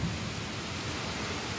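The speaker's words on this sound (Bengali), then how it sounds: "আর বাইরে আজকে খুব বৃষ্টি হচ্ছে।" Heavy rain falls outside as a steady, dense wash of noise that holds evenly throughout, with a low rumble underneath.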